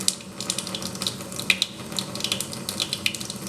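Tap water runs steadily into a sink while makeup brushes are rinsed and squeezed under it, giving a close, splashy, fluttering stream with small irregular spatters.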